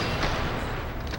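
Sustained gunfire from the Xbox 360 Western shooter Gun, a dense continuous barrage of shots and booms filling the clip with no quiet gaps.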